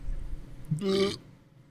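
A single short, throaty burp from a person, brief and fairly close, set against a low hum of room noise.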